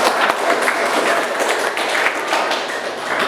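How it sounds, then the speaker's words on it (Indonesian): Students in an Islamic studies class clap together after counting along, a dense, steady patter of many hands filling the room for about three seconds. "Baik, tepuk tangan."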